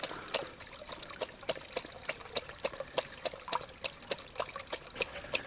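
Clear forest water trickles and drips close by, a continuous gentle babble with frequent small splashes at a soft, even level.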